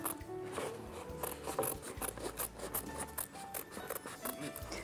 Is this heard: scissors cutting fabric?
yes